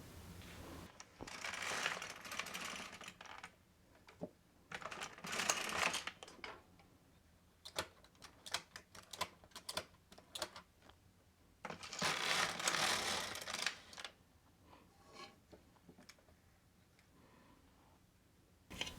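An LK150 knitting machine carriage slides across the needle bed to knit rows, giving several separate bursts of clattering, rasping mechanical noise with quiet gaps between them, close by and with no talking.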